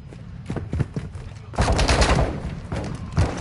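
Gunfire in the video game Warzone: several sharp shots early on, then a dense, loud burst of rapid fire that keeps rattling to the end.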